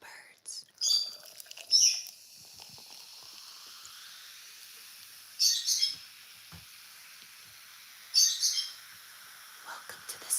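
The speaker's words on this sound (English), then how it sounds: "Don't mind the birds." Birds chirp outdoors in three short bursts spread apart, moderately close over a quiet hiss of background air.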